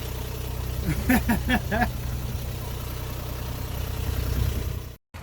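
A sailboat's inboard engine idles steadily at anchor off Rodriguez Key, a low continuous drone with a brief burst of voices partway through.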